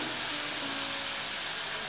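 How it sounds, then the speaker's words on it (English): Onion for a curry sizzles and fries in a pan with salt, a dense, steady crackling hiss that stays even and close with no talking over it. "Now just cook it for a few seconds or until the onion looks translucent."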